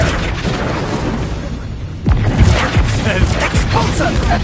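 Spell blasts burst in a Hogwarts Legacy duel, a loud booming crack at about two seconds followed by several more sharp thumps and pops over a dense, roaring game mix.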